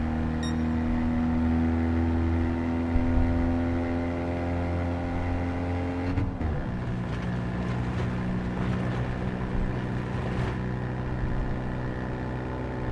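Car engine in Gran Turismo 7 held in third gear at high RPM, a steady loud drone with a slight pitch rise, then a shift around the midpoint into a rougher, noisier engine tone that continues to the end.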